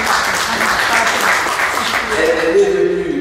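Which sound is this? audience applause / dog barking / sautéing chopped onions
audience applause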